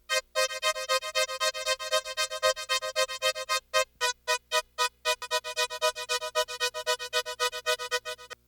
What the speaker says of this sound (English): so I'm using the delay to create that 16th note rhythm